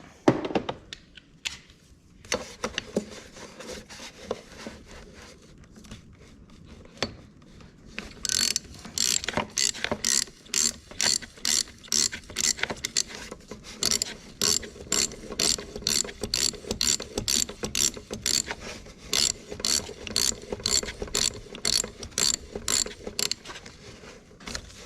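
A ratchet wrench working steering shaft bolts loose on a Yamaha Grizzly 700 ATV: some slower clicks and clunks first, then a long run of rapid, evenly spaced ratcheting bursts, close and clear with no talk.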